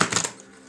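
Tarot cards riffle through a quick shuffle, a brief papery flutter lasting a fraction of a second before fading to quiet.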